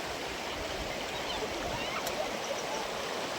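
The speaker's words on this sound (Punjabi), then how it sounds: "ਝੋਨੇ ਦੇ ਵਿੱਚ ਪਾਣੀ ਕਿਵੇਂ ਜਾਂਦਾ ਦੇਖ ਲਓ" Continuous rushing floodwater pours steadily into a nearby paddy field, a dense even wash of flow with a brief sharp click partway through.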